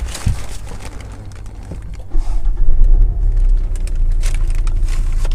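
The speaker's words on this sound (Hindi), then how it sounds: "तो चलिए अब गाड़ी को स्टार्ट कर लेते हैं।" A Hyundai i20 diesel car engine cranks with a brief crackle and catches, then settles into a steady low rumbling idle that grows slightly louder and stays close.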